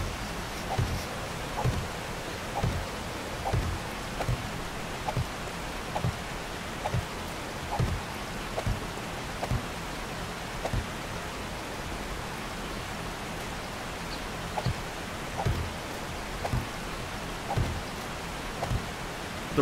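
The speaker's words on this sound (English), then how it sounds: "Rain is really soothing in this game. I've always liked the sound of the rain." Rain falls steadily in the survival game 7 Days To Die, a soft even hiss with faint regular thumps repeating about once a second underneath, continuous and calm with no talking.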